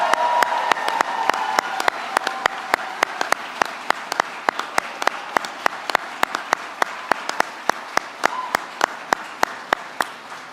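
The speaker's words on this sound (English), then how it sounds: "let's give them another round of applause for their accomplishment" Audience applauding at a 2022 police academy graduation ceremony, a steady wash of clapping through the whole span with a few sharp, evenly spaced clicks standing out on top.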